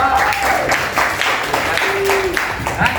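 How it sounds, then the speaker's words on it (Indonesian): A high-school economics class gives a loud, dense round of applause for a student discussion group, with voices and chatter mixing into the steady clapping throughout. "Ya, tepuk tangan untuk kelompok."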